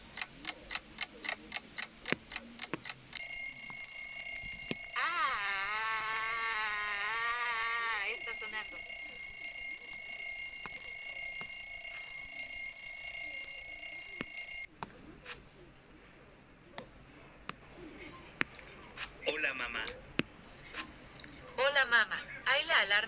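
An electronic alarm clock rings loudly and continuously with a shrill tone for about eleven seconds, then stops; quieter rustling and movement follow.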